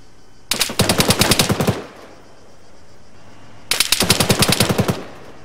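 Rapid automatic gunfire in the Arma 3 video game comes in two sharp bursts of about a second each, with a short quiet gap between them and faint background noise.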